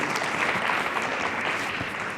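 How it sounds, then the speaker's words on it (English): Steady crowd applause after a talk at a startup conference, dense clapping from many hands sustained throughout at an even level, no voices standing out. "Show us the applause for Erik"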